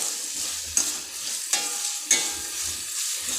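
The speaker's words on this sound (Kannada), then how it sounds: "ಇದನ್ನು ನಾನು ಒಂದು ಐದು ನಿಮಿಷದವರೆಗೂ ಮೀಡಿಯಮ್ ಫ್ಲೇಮಲ್ಲಿ ಎಣ್ಣೆಯಲ್ಲಿ ಫ್ರೈ ಮಾಡ್ಕೊಳ್ತೀನಿ" Carrots and beans frying in oil over a medium flame while being stirred for pulao, giving a steady close sizzle with three sharp scraping stirs, no voices.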